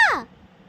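A child imitates a crow's caw with a single short, bright vocal call that falls quickly in pitch and fades within a fraction of a second, leaving quiet room tone.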